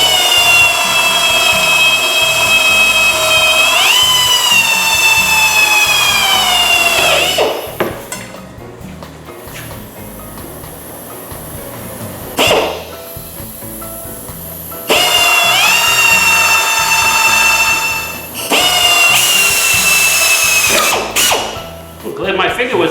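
A power drill bores through plywood in loud, close bursts, its motor whine rising and falling as the bit cuts through the wood, with quieter gaps between runs.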